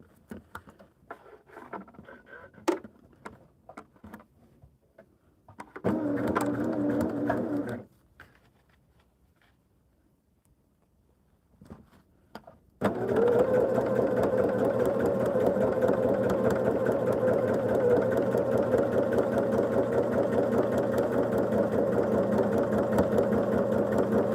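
Sewing machine stitching quilt blocks, a short burst of rapid stitching followed by quiet handling noises, then a long steady run of fast, even stitching close by.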